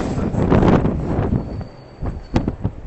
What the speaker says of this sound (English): Ooh, windy right here.